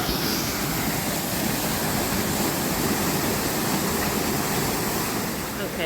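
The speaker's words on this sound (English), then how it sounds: "we've been to our first waterfall, which is called Fern Forever Governor, down there, as you can see." Steady broadband rush of a waterfall at Fern Forever Governor in Kingston, Jamaica, a continuous dense roar holding even throughout, close and fairly loud with no pauses.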